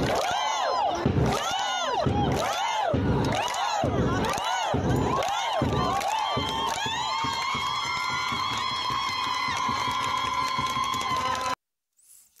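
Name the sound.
football players doing Icelandic clap cheer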